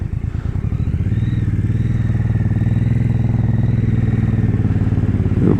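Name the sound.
MBP C1002V V-twin motorcycle pulling away in first gear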